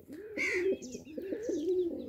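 Pigeons coo nearby in soft, throaty, rolling calls, one after another, with a light flutter of higher chirps above.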